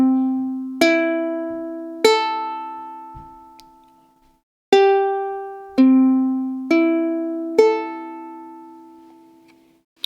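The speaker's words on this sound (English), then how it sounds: "this is going to be in standard tuning, so your uke should sound like this." Single plucked notes on the open strings of a soprano ukulele in standard tuning ring out one at a time with long decays and gaps between them, close and clean, alone with no talking.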